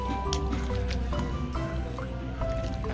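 Children splash about in water in the afternoon, with wet slaps, drips and sloshing over a continuous background while young voices chatter nearby.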